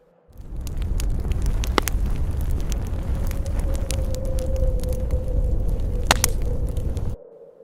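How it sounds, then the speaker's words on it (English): A fire crackles and pops steadily up close, with sharp snaps scattered throughout over a low rushing roar, and no voices. "Only the sound of the crackling bonfire remained."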